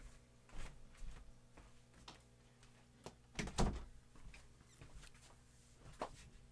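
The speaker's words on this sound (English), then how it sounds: "let me shut the door" A room door is shut once in a quiet indoor space, a dull thud with a short rattle at mid-clip, set among scattered small handling knocks and light movement noises.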